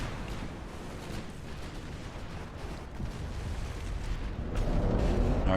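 Heavy naval shell hits pound the battleship USS Wyoming in Ultimate Admiral: Dreadnoughts, a rolling, booming rumble of impacts and gunfire that builds in loudness over several seconds.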